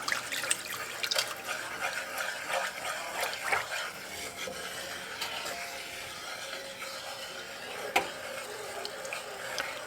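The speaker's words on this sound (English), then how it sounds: "And I'm going to add the milk." Milk poured into a pot of mashed potatoes in a home kitchen, a steady liquid trickle with small splashy clicks running throughout, fairly faint and close, with no talking.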